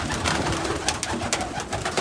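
Pigeons coo in a loft, soft low repeated cooing calls close by over a steady rustling background, with no talking.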